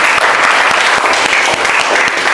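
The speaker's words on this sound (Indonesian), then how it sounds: "kita tepuk tangan dulu" Classroom applause during a teaching-practice project lesson, a steady dense patter of many hands clapping close by, loud and continuous with no voices over it.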